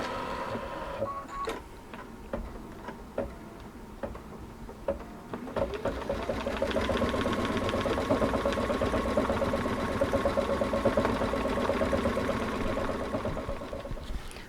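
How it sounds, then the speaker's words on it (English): A quilted slipper fabric gets stitched by an embroidery machine, a busy mechanical whirring and rapid ticking that swells into a steady, dense run after a few seconds of sparser clicks. "I'm ready to embroider"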